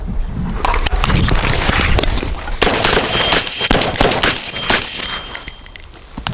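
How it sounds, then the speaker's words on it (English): Rapid loud gunshots from rifles and pistols at a police firearms qualification range, many overlapping cracks firing in irregular bursts across the whole stretch before thinning near the end. "Shots."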